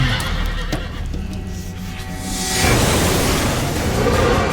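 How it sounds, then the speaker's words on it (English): A huge, powerful horse from the video game Darksiders neighs and whinnies loudly, then heavy hooves clop in over a rising rumble of noise for the last couple of seconds. "We wanted to make Ruin bigger and more powerful than any horse could possibly be"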